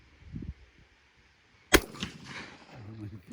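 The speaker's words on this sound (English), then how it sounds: "going to shoot it out in the sky" A single sharp shot fired skyward rings out loud and close, a sudden crack with a short decaying tail, preceded by faint talk and followed by a voice.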